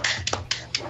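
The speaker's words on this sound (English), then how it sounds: "Golf clap." A handful of soft, sparse hand claps, a polite golf clap after a wrestling match, land as short separate pats with small gaps between them, quiet and close with no voices.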